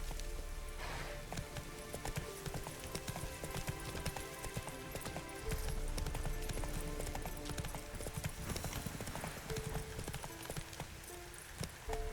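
Roach the horse galloping in The Witcher 3 on Fyke Isle, a steady rapid clip-clop of hooves running continuously under game music and ambient rain-like patter.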